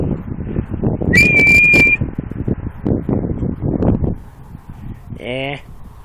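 A person talks while a short, sharp whistle sounds once to call a dairy cow, then another rising whistle follows near the end, loud and close.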